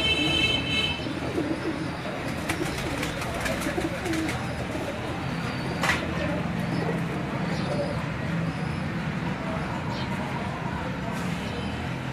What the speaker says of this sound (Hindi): हीरा लाल ब्रीड का कबूतर जो है ये आपको दिखाया जा रहा है